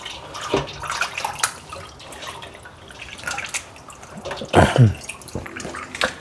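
Lamb riblets are rinsed in water in a bowl or sink, with splashing, dripping and sloshing that come and go. A louder burst of handling in the water comes near the end, close by and with no speech.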